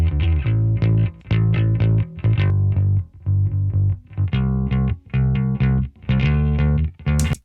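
Bass guitar run through distortion on a parallel chain, playing loud, gritty, sustained notes in a steady rhythmic pattern with short gaps between phrases, close and upfront.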